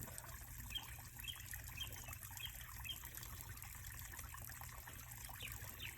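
Water trickling and gurgling in a garden pond, a faint continuous splashing flow over steady low background hum, with no voices.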